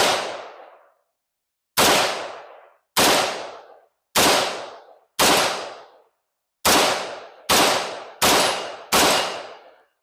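Nine loud single rifle shots from an S&W M&P 15T at a steel plate about 50 yards downrange, each a sharp crack with a ringing decay, fired at an uneven, unhurried pace outdoors with no talking.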